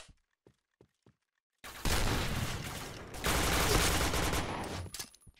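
A few faint clicks, then a loud, sustained burst of rapid gunfire in the video game Point Blank that pauses briefly and resumes, dense and close, with no talking.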